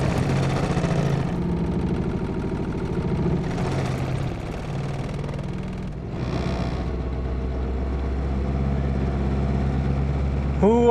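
A 1990 Chevrolet Cavalier engine cold starting and idling, with cranking bursts followed by a steady low idle hum that keeps running, close and fairly loud.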